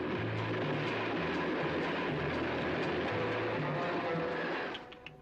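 A train in a film excerpt rumbles steadily with a dense, loud mechanical roar and rhythmic clatter that fades out near the end.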